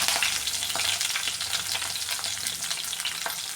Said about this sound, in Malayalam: പച്ചമുളകും കറിവേപ്പിലയും അതും കൂടെ ചേർത്ത് കൊടുക്കുകയാണ്